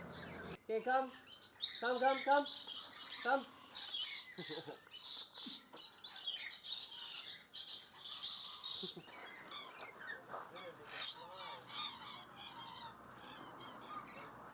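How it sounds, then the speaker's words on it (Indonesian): Birds of paradise sing in the bird garden of an adventure park in Port Moresby, with loud repeated whistling phrases and squawks, close and lively, calls overlapping in rapid bursts throughout. "Kicauan burung surga nan indah memanjakan telinga."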